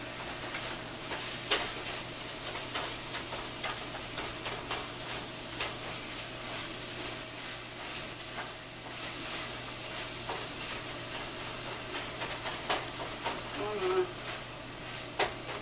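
Halupki filling of meat and short-grain rice stirred and cooking in a pan, a steady soft sizzle with scraping strokes of the spoon, while a person talks over it.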